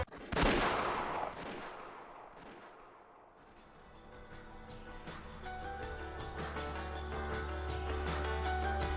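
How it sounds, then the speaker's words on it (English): A single gunshot in the visual novel Umineko: a loud, sharp crack with a booming tail that fades over a couple of seconds, then gives way to a sustained, dense musical swell with no voices. "They certainly heard the crisp sound of gunfire ring out once."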